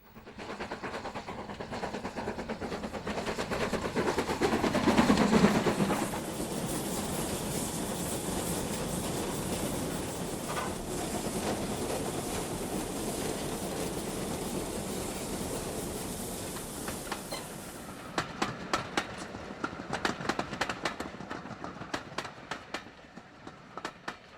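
A train rumbles steadily along the rails, then rhythmic clickety-clack beats come through as the wheels pass over joints.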